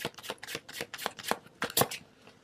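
Tarot cards being handled and shuffled to draw another card, a rapid run of crisp papery flicks and riffles, close and alone without talk.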